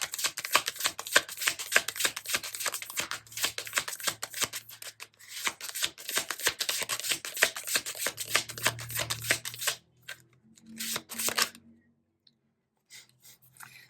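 Tarot cards are shuffled by hand in quick, crisp riffling flicks that run steadily for about ten seconds, pause, then return in a few brief final bursts, close and clear with no talking.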